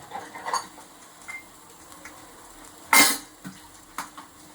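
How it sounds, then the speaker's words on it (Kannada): Dishes, pots and pans are washed at a kitchen sink, with scattered clinks and knocks of utensils, one sharp louder clatter in the middle, and soft water and handling sounds between. "ಹಾಗೆ ಪಾತ್ರೆ ತೊಳೆಯೋದು."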